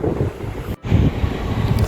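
Strong outdoor wind buffets the microphone outside a hotel in Ibri, Oman, with a continuous loud rumbling roar that drops out for an instant before surging back.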